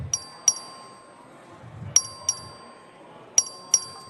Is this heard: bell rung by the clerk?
yes